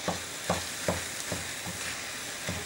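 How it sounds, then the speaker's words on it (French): About 500 g of cooked Thai rice is stirred and tossed in a hot wok, a spatula scraping in regular strokes roughly every half second over a soft, steady sizzle. "je vais venir le mettre dans le wok. Et là on va venir mélanger."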